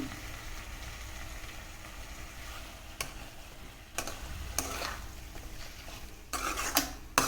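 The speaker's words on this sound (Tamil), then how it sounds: "சிக்கன் போட்டு நல்லா வதக்கி விட்டுக்கோங்க" Chicken stir-fried with softened onion and tomato for a pepper chicken roast, with a low background sizzle broken by a few sharp clinks and scrapes of a spoon against the pan, close and fairly quiet.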